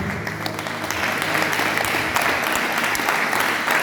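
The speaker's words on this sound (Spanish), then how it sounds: "¿Puedes aplaudir al Rey?" Church congregation clapping vigorously during an evangelical sermon, a thick, continuous burst of applause from a large crowd that swells slightly and holds steady to the end.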